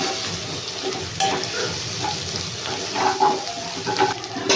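Onions fry in a pan while preparing egg rice, with a continuous sizzle under stirring scrapes and occasional louder spatters, close and moderately loud.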